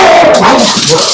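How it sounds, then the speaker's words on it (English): A dog barks a few times nearby in a short burst, the yaps fairly loud and close. "dog barking because I thought that was the doorbell"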